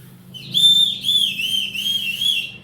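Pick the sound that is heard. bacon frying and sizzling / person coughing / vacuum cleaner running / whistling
whistling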